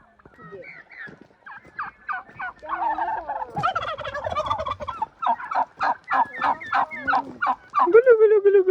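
Turkeys on a farm in Azerbaijan gobble in repeated rapid bursts, several birds calling close by and overlapping, growing louder and busier toward the end.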